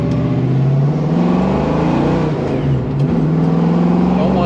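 A car with a 347 stroker engine revs to about 2,700 RPM while the car slides a little sideways, giving a loud, close, steady throaty engine drone that rises and settles, with a voice talking over it.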